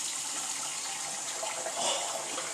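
Cold water runs steadily from a kitchen tap over freshly boiled hot potatoes for potato salad, a continuous close splashing hiss with no talk.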